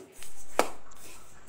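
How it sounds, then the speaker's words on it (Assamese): A single sharp knife chop through a beetroot, close and crisp against a quiet kitchen background with a soft hiss. "এতিয়া বিটটো কাটি লোৱা হ'ল।"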